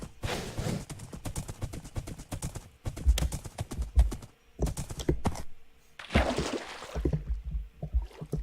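Horse hooves clip-clopping in the Minecraft video game on Windows 10, a steady run of close, even-paced steps with brief pauses between bursts.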